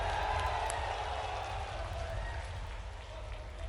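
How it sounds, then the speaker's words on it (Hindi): A large crowd applauding at an outdoor political rally, a dense, steady wash of clapping that holds evenly at a moderate distance throughout. "तो ताली एक बार और जोर से बजाओ"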